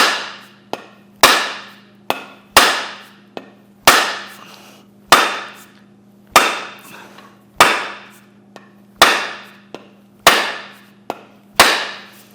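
An axe head is hammered onto a wooden handle to seat it firmly, giving about eleven loud, sharp metallic strikes at a steady, roughly one-per-second rhythm, each ringing briefly before the next blow, with no talking.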